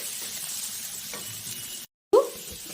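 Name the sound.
stirring tamarind leaves, dried fish and onions with ginger-garlic paste in a pan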